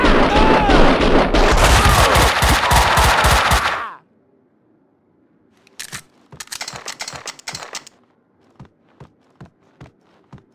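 Automatic and rapid gunfire from the video game Max Payne 2, a loud dense burst of shots for several seconds that cuts off abruptly, followed by quieter scattered bursts and a series of single distinct shots.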